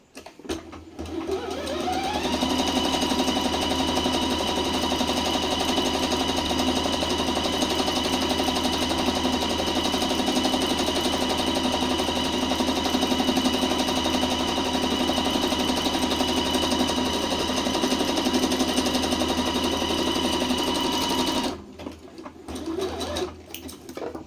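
A tabletop sewing machine stitches a decorative design, running in a steady, continuous near whir for about twenty seconds before stopping, with no talk over it.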